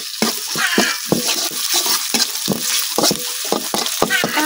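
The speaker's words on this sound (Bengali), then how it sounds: "পেঁয়াজ আদা রসুন আমি কিছুক্ষণ বাজিয়ে দিলাম" Onion fried with ginger-garlic paste sizzles in a pan while a utensil scrapes and stirs in a steady rhythm of close, distinct strokes over a continuous hiss.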